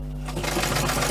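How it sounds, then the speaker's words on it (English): A sewing machine runs steadily, stitching over a folded edge of a bushcraft water bottle utility pouch, a close, continuous mechanical hum with a fast rattling needle rhythm and no talk. "so all we're going to do now is we're going to stitch over the top. So we do a fold, offer it up to the machine,"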